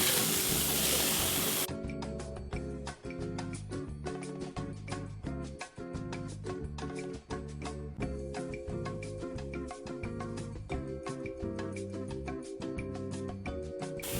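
Burgers and onions sizzle on a hot grill with a continuous crackling hiss, steady and close, punctuated by small pops and brief dips in loudness.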